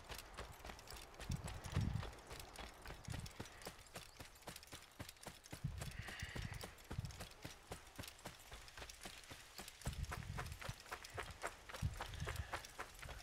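Horse hooves clip-clop steadily at a trotting pace in Assassin's Creed, a rhythmic series of close, distinct hoofbeats continuing throughout with occasional faint low thuds between strides.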